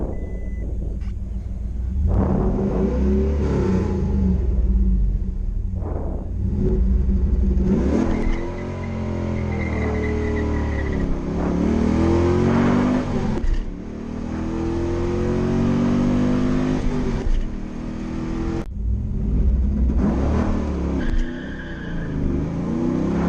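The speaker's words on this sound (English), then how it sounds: "these tires really don't do it justice and it spins like crazy" Trans Am launching hard, loud engine revving rising and falling over the whole stretch with tires spinning and squealing, close and continuous.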